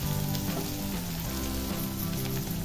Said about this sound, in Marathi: लसूण चांगला भाजून घ्यायचा आहे.